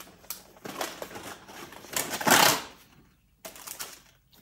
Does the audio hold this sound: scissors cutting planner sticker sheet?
yes